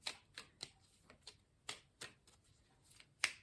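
Tarot cards being shuffled by hand: a string of soft papery riffles and flicks in an irregular rhythm, close and fairly quiet, with no talking.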